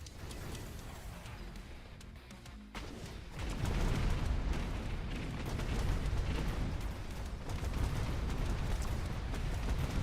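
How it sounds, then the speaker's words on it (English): Saturation bombardment in a strategy video game: a continuous roar of dense, overlapping explosions that swells after a brief lull and keeps rumbling loudly for the rest of the stretch, with no voices. "He's taking saturation bombardment"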